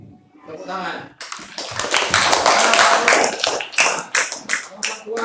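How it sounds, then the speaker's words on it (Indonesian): Elementary school class clapping hands together after a brief spoken prompt; a voice is heard first, then a burst of group applause that breaks into several rhythmic, loud unison claps near the end. "Nah, tepuk tangan."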